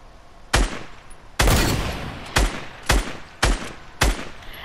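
SCAR rifle fire in a video game: six sharp, loud gunshot bursts at irregular intervals over a few seconds, each with a short decaying tail, and no talk over them.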